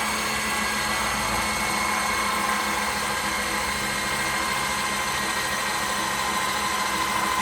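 A test rig spins a Makita-related alternator powering bulbs, giving off a steady, whirring motor drone with a high tonal hum, constant and close with no speech.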